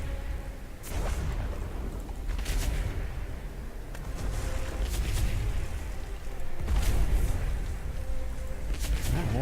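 Turret fire in World of Warcraft, during the Mag'har Orc allied race unlock quest, with booming shots repeating at irregular intervals over a dense, rumbling battle background.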